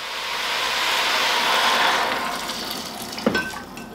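About 60 cl of water poured into a hot cooking pot, a loud, steady rushing hiss that swells and then fades after a couple of seconds, followed by a single short clink.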